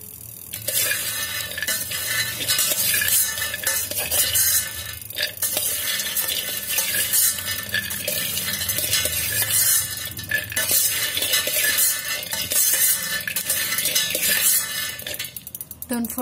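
Peanuts dry-roasting inside an electric kettle are stirred continuously, giving a steady scraping, rattling churn with faint clinks of the utensil against the kettle walls throughout.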